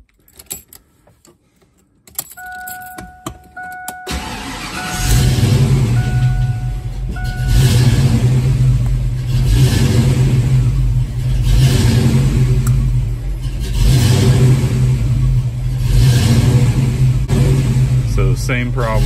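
Foxbody Mustang engine, warm, cranking and starting after a few seconds of jangling keys, then idling with a surging rise and fall in loudness, close and loud.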